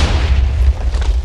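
A Minecraft firework explodes with a deep, loud boom that rumbles and fades over about a second.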